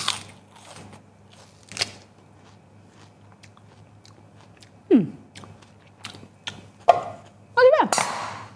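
Raw rhubarb stalk dipped in sugar is bitten and chewed up close, with a few sharp, crisp crunches separated by quiet chewing gaps, plus some brief vocal sounds.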